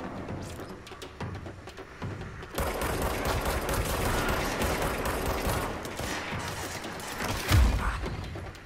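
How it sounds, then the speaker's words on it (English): Sustained automatic gunfire crackles through a firefight in the video game Control, starting as scattered shots and then swelling into a dense, loud fusillade with a heavy thump near the end. "I'm expecting more gunfire."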